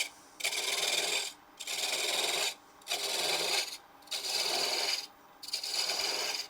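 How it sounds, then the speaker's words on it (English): Spindle gouge removing wood from a spinning blank on a lathe while making a threaded acorn box, a steady raspy cutting sound in five long even passes separated by brief pauses. "we're going to go back to the spindle gouge. And now lock the tailstock spindle. We're just going to remove some wood."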